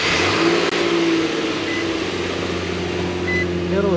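A 2012 Nissan Frontier engine runs close by after starting, with a steady mid-range hum and a faint tonal whine, at a moderate, even level with no talking.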